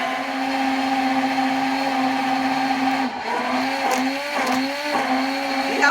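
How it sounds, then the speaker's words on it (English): A stick blender whirs through a marshmallow lavender butter mixture with argan, a steady close high-pitched motor hum that dips and wavers in pitch toward the end as the blade works the thick mix. "I'm going to start stick blending now"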